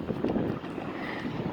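Wind gusts across a microphone outdoors on a sunny, breezy day in Sharjah, a steady low rumbling buffet with no voices.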